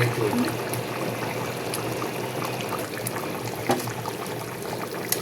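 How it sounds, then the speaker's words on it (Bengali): A pot of paneer and vegetable curry boiling steadily, a continuous close bubbling and hissing wash with occasional small pops, under faint talk. "দেখো তরকারি কিন্তু আমার ফুটছে টকবক করে"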